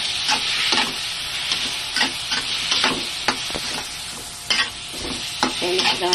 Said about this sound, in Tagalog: Halo lang natin